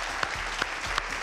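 Studio audience applauding on a television show set, a brief dense burst of clapping from a crowd, steady and fairly loud with no talk over it.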